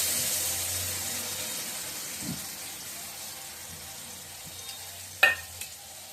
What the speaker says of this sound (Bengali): প্রথমে কড়াইতে মশলা পেস্ট করে দিই